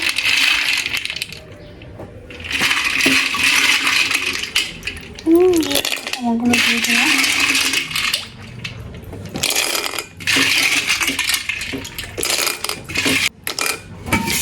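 Washed snails and raw green tomatoes tipped into a cooking pot, giving a loud, rough clatter of shells and scraping that lasts through most of the stretch, with a short quieter gap and a brief voice in the middle.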